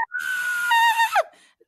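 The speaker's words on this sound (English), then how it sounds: "That was my happy scream." A single high, sustained scream of joy rises in pitch and then breaks off, loud and close, followed by a brief breath.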